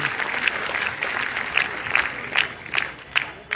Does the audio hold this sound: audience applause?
yes